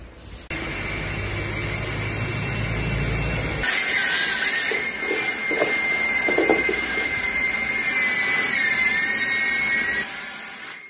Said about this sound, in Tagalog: Bubugan natin yan ng air blower.